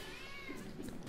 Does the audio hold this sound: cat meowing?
yes